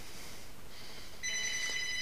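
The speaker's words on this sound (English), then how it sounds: "I'm gonna go and call my home phone so you guys can hear it ringing." A home telephone rings once with an electronic trilling tone, cutting in sharply partway through after a quiet stretch of room noise.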